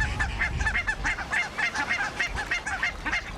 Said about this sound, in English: the two males defend their territory from other ganders, a role they seem to take extremely seriously